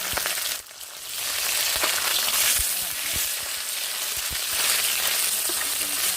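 Hilsa fish head frying in hot oil with whole cumin, a dense close sizzle and crackle throughout, with occasional sharp pops and light stirring.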